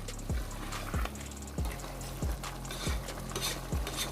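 A spoon scrapes through matar keema mince frying in about half a cup of oil in a pan, giving about seven evenly spaced stirring strokes over a constant soft sizzle.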